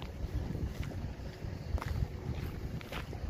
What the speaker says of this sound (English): It's a little bit more windy now than earlier